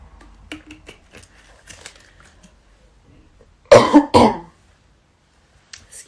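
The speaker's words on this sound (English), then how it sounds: "I'll clear my throat" A person clears their throat up close in two quick, rough bursts, loud against an otherwise quiet room with faint small sounds before and after.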